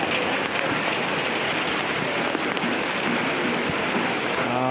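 Flood water rushing loudly down the Khahare stream in Boudha, a steady, dense roar of churning water close by that runs unbroken throughout.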